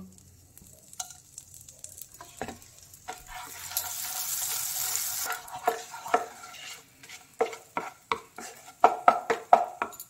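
Whole cinnamon, cardamom and cloves hit melted butter in a pan for paneer butter masala, a surge of sizzling followed by repeated spoon scrapes and knocks as the spices are stirred, close up with no talk.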